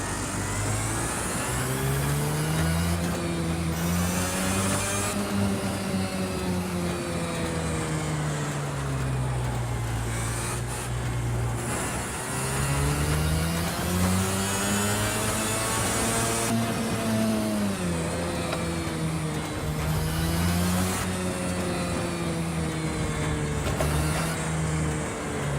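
A 2-stroke shifter kart engine in Project Cars 2 buzzes and revs hard, pitch climbing and dropping repeatedly through gear shifts, loud and continuous with no talk.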